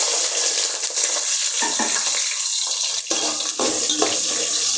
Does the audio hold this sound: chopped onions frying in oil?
yes